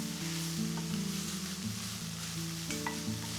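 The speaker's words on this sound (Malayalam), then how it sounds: "നല്ലതുപോലെ ഇളക്കി ഉലർത്തിയെടുക്കാം." Dried shrimp and banana stem stir-fried in a pan make a soft, continuous sizzle with a faint scrape of stirring, while steady tonal hum sits underneath and no one speaks.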